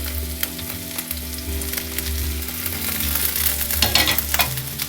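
Crushed ginger, garlic, green chilli and onion sizzle together in hot oil in a home kitchen pan for egg rice, a steady, loud crackling fry with occasional stirring scrapes and no talk.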